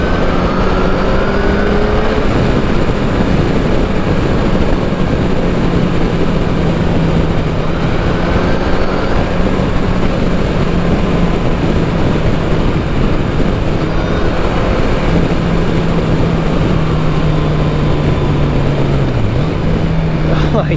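A sport touring motorcycle engine drones steadily while riding on a hot day, a continuous low hum with rushing wind noise that shifts slightly in pitch throughout.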